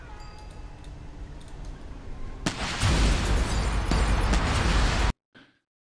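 Explosions in the video game Snakeybus: faint ticking gives way to a sudden loud, rumbling blast that roars on for a few seconds, then cuts off abruptly into near silence.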